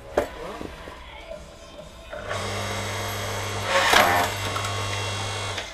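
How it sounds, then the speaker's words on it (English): AL-KO KHS 5200L 5-ton electric log splitter splitting seasoned ash, a motor hum starting after a quiet moment, with a sharp crack of wood bursting midway, close up. "just splitting a bit of ash. And the 5-ton log splitter. It's quite seasoned, so it explodes a bit."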